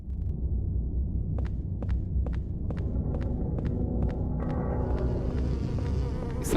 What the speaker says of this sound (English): You sound like bees.